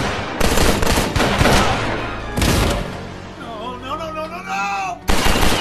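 Gunfire in a Joker film scene: loud, rapid bursts of shots near and dense, breaking off for a shouted, wavering voice before another sharp volley at the end.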